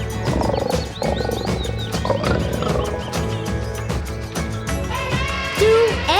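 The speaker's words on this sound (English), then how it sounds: "1 lion." A cartoon lion roars loudly over dense, busy children's background music, the roar standing out clearly in the mix with no talking.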